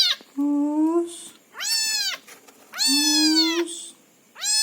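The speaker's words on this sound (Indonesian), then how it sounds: "Anak kucing nggak tahu umur berapa minggu." A cold, unwashed orphan kitten of unknown age meows loudly and insistently, four drawn-out cries with rising and falling pitch separated by short pauses, close up with no talk over it.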